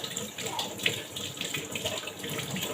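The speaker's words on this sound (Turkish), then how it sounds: "Meyve hazırlıyorum. Bunları yıkıyorum." Fruit being washed under a running kitchen tap, a steady splashing gush of water that shifts slightly as the fruit is moved under the stream, close and moderately loud.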